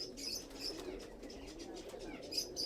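Pigeon of the churail breed cooing softly, low repeated throaty coos with faint chirpy flutters above, quiet and close.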